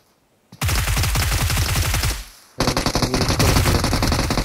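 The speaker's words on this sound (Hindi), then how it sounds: "अबे यार, तेरी सारी गोलियां रिच को लग रही थी।" Rapid bursts of automatic gunfire in the video game BGMI, one long rattling volley followed by a brief pause and another fast burst, loud and close.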